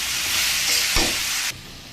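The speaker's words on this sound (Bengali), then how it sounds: "এটা নেড়ে চেড়ে ভেজে নামিয়ে নেব" Cabbage with whole chillies being stirred and fried in a pan, a close hissing sizzle with one sharp spatula knock near the middle before the sizzle abruptly drops to a quieter level.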